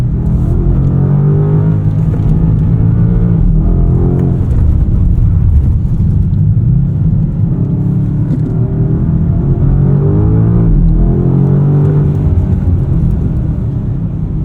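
A 2025 BMW M5 driven hard around a wet race track, its engine rumbling loud and close with rising and falling revs as it accelerates through corners, continuous for the whole stretch.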